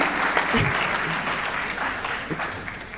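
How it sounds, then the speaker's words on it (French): Audience applause greets a mention at a local civic gathering of the Rassembler notre ville team in Garges, a dense, steady wash of many hands clapping for three seconds, with a few voices mixed in. "Ah ouais, des applaudissements quand même."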